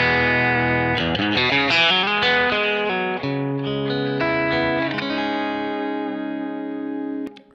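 Bright, chiming electric guitar chords ring out through a brightened Kemper amp profile, with a glassy, shimmering tone that sustains and slowly fades.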